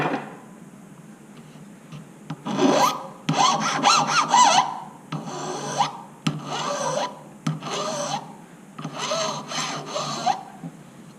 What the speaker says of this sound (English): So I'm just cutting a little rectangle.